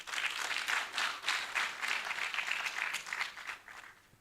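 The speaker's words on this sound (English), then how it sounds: "another big round of applause for Ang Soils" At a science conference, the seated audience gives a round of applause for a presenter, a dense, evenly rippling patter of many hands that fades out toward the end.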